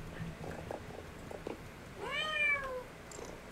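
A cat gives a single clear, drawn-out meow, close and fairly loud, over low background noise.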